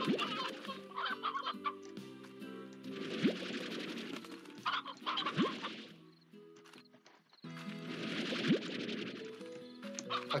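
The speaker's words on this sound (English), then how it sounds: "Actually, I think there are a few chickens." Chickens cluck and squawk in the video game Slime Rancher, several birds calling repeatedly in bursts over layered game music and interface sounds, fairly close and steady throughout.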